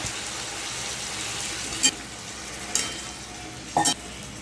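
Chopped ridge gourd sautés in a pan for a Bengali posto dish, with a steady close hiss of frying. Three brief scraping stirs cut through the sizzle.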